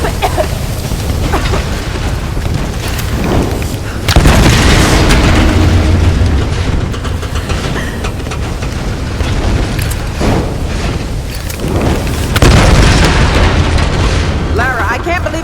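Explosions in the video game Tomb Raider, heavy rumbling booms, the loudest around the middle and again near the end, over a continuous roar of game sound with characters talking throughout.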